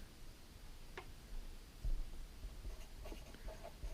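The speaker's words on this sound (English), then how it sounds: "Oops, I forgot to write the name down." Faint marker strokes on a board during an anatomy lesson, a few brief scratchy squeaks and taps spread over a few seconds in a quiet room.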